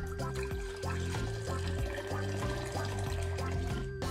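A tap runs to fill a kettle, giving a steady, continuous wash of water. A sustained hum and tonal background sound sit under it throughout.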